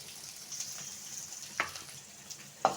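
Onions fry in oil with tempered mustard seeds, cumin and urad dal for masala sundal, making a faint continuous sizzle broken by a couple of sharp stirring clicks.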